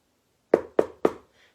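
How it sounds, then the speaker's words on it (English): Three sharp knocks on a door, evenly spaced and close, with silence before and after. "knock, knock, knock."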